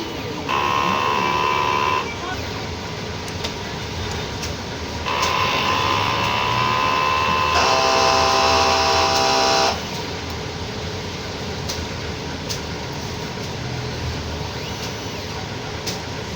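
DTF printer with a 60 cm print head runs a head cleaning cycle, giving two loud mechanical bursts of pump and carriage whirring with tonal buzzing, separated by a quieter hum of the running machine. No one speaks.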